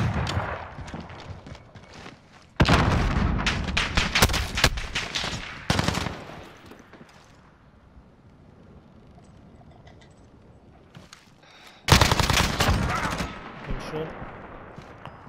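Heavy gunfire in a Call of Duty: Modern Warfare match, with loud, rapid bursts in two long clusters separated by a quieter stretch, close and dominant over occasional talk.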